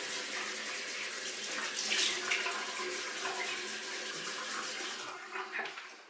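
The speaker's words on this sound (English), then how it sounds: "Let me wet my face real quick." A bathroom tap runs steadily as water is used to wet the face, a continuous close hiss and splash with slight shifts as hands move under the stream, no talking.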